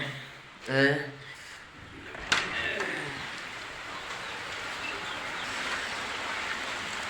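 Steady rain falls outdoors, a constant broadband hiss that settles in after a short spoken phrase and a sharp knock, continuing evenly to the end.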